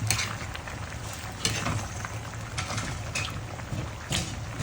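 Sardines sautéing in a kawali for ginisang sardinas with miswa and patola, a steady close crackle of frying with a few louder stirring scrapes and clinks throughout.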